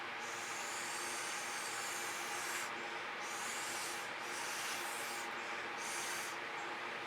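Air blown steadily across wet fluid acrylic paint to spread it, a soft continuous breathy hiss that runs for several seconds with a few brief pauses between breaths.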